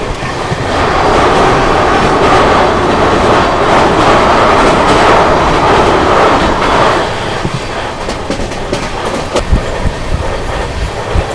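Gitanjali Superfast Express rushing past at high speed, a loud sustained roar with rapid clickety-clack of wheels over rail joints, easing slightly toward the end as the last coaches go by.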